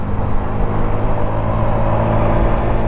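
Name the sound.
Honda Navi scooter engine whining while accelerating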